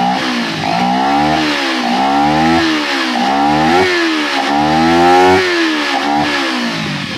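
Multi-cylinder motorcycle engine with carburetors being tuned, revved in repeated rising-and-falling throttle blips, loud and close, with a steady harmonic drone and no talking.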